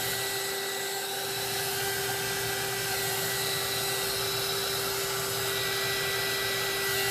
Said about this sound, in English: If I keep the dryer there for a little bit and move it around, it dries that area